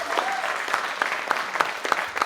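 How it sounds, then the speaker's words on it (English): Brief audience applause during a film Q&A at a festival, a modest, steady clapping from a small crowd with distinct individual claps standing out. "Can we clap for that?"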